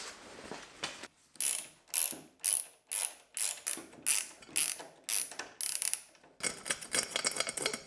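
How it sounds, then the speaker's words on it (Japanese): A ratchet wrench clicks in quick bursts as bolts are loosened on a Caterham Super Seven headlight mount, close up, with about a dozen rhythmic ratcheting strokes and short pauses between them. "ここのボルト外して、このヘッドライトの本体、ここのパイプから外すことができます"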